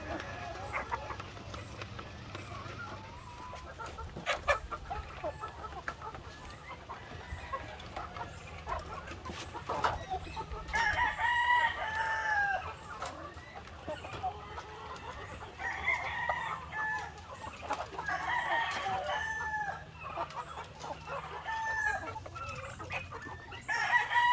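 Hens and game fowl cluck steadily nearby in a breeding pen while a rooster crows several times, loud and close, with a dog barking faintly now and then.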